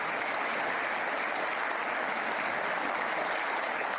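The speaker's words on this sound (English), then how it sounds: "Appreciated by the crowd." Steady applause from the crowd at the 2025 Scottish Open snooker final, a dense even patter of clapping hands holding for several seconds without voices.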